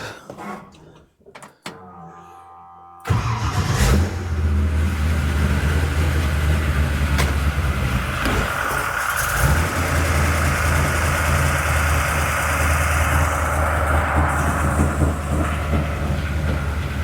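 A 1955 Chevy engine starts after a few seconds of quiet clicks, then settles into a steady, loud, close rumbling idle that holds unbroken to the end.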